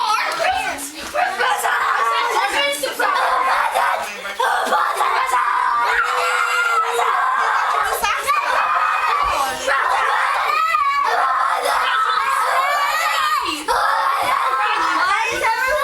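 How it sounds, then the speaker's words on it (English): Children scream and shriek continuously while opening presents at an indoor family gathering, a loud, crowded chorus of high voices with shouts and chatter mixed throughout. "Why is everyone screaming?"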